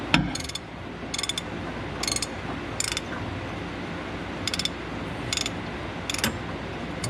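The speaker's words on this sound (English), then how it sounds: "And the ratchet on this one." A ratchet wrench clicking in short, regular bursts on a TD8E dozer blade under repair, about eight quick ratcheting strokes close up over a steady background hum, with no talking.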